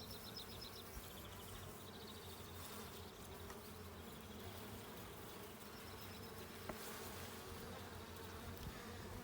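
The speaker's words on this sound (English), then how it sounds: "I'm going to shake these bees back into that hive" Honeybees swarm and buzz around an open hive during an apiary inspection at Ballachulish, a dense continuous drone steady throughout, close and fairly faint, with no voices.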